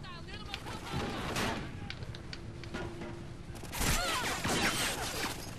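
Gunfire in a first-person shooter video game, bursts of rapid shots and mechanical clatter over busy game sound, fairly close but not loud.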